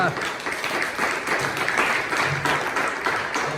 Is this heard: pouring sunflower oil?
no